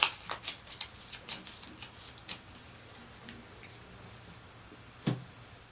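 Cards for the Castilion board game being shuffled by hand, a run of quick riffling bursts and soft flicks over the first couple of seconds, then quieter handling and one last sharp card snap near the end; close and fairly quiet, no talking.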